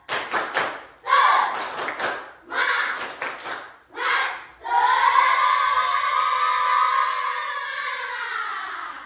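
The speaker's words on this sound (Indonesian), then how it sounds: "Sekali lagi, tepuk semangat." An Indonesian classroom repeats a spirit clap. Students beat out short rhythmic bursts of clapping in sequence, then finish with a drawn-out, loud collective shout that carries the room for several seconds.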